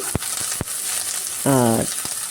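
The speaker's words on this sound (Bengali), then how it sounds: "কড়াইতে তেল দিয়ে আমি বেগুনগুলি দিয়ে দিয়েছি" A steady oily sizzle with a few sharp pops and clicks, broken briefly by a short tonal squeak partway through.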